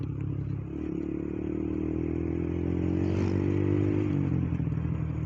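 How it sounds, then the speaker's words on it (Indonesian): A motorcycle rides along a rough mountain road toward the coast, its engine droning steadily up close, pitch rising slightly as the throttle opens, with rattles and clatter over the engine. "kita agak tarik gas dikit, pengen cepat ke tempat istirahat"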